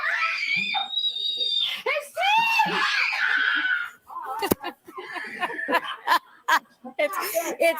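A voice in a played-back video screams in a long, shrill burst during a family game, followed by giggles, snickers and child chatter with sharp bursts of laughter.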